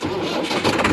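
A Massey Ferguson 385 tractor engine cranks and catches, a dense rumbling start with rising roughness near the end, heard close and steady for about a second with no talk.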